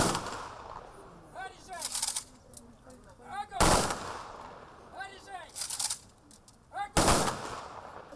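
Rifle volleys of a gunfire salute at a memorial ceremony for a monument opening, three sharp, loud reports spaced a few seconds apart, each echoing, with faint voices between the shots.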